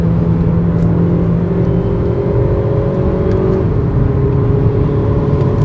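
An Audi A3 saloon engine hums loudly and steadily from inside the car, with a sustained drone and a slight pitch change as it revs under load.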